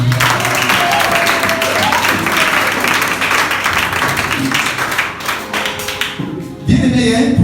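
A church congregation applauds loudly and continuously, with dense clapping that tapers off near the end before a burst of sound returns.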